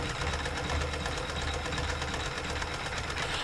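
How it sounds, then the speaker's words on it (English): A sewing machine quilts single-colour fabric for pouches, running in a steady, continuous mechanical drone that stays close and fairly loud throughout, with no voices. "I'm just going to start the quilting first because the quilting's boring."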